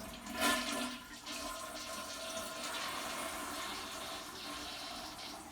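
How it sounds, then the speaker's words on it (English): A household toilet with a newly repaired fill valve flushes with a loud rushing swirl of water that peaks early and then settles into a steady draining and refilling hiss, heard up close with no talking. "All right, so let's see how she flushes."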